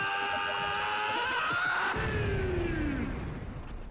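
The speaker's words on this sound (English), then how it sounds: "all I heard was the scream" A scream sound effect fired off from a Stream Deck during a live podcast, one loud sustained shriek that slides downward and fades, with crashing noise and chatter beneath it.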